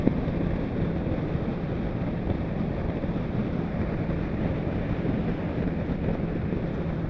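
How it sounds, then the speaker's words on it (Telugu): Strong wind buffets the microphone during a long motorcycle ride toward Kondaveedu fort, making a constant heavy low rumble and roar with no talk. "గాలి గట్టి వీస్తుంది"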